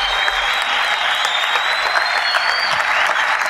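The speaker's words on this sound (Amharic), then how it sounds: "ሞቅ ባለ ጭብጨባና እልልታ እናመሰግነው ዘንድ በትህትና ጠይቃለሁ" Audience at the 11th Guma Award ceremony claps in a sustained, dense burst of applause that fills the hall evenly throughout, loud and close, with faint cheering mixed in.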